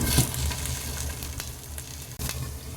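Green plantain pieces with turmeric frying in a covered pan over medium flame, a steady hissing sizzle broken by a few faint clicks and a brief dip near the end.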